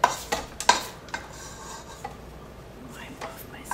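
A spatula scrapes down the sides of a mixing bowl of lemon loaf cake batter, making a few close, distinct scrapes and taps near the start, then softer, scattered rubbing strokes.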